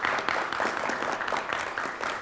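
Audience applause greets the Dakota team at a quiz bowl game, a steady wash of many hands clapping that holds fairly loud and even for the full length, with no talk over it.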